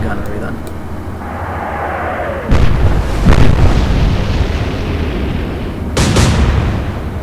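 Deep naval gun salvos boom in the Atlantic Fleet video game, with a low continuous engine rumble underneath and two loud blasts, the second a few seconds after the first.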